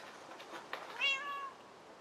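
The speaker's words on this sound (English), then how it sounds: "Was that meowing?" A cat meows once inside the Minecraft video game, a short rising-and-falling cry over faint background hiss, with soft clicks just before it.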